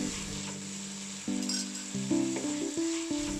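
Three small potatoes sizzle and hiss in a hot pan as they are stirred, a steady close frying crackle with clinks of the spoon against the pan.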